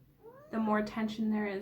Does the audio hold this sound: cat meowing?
yes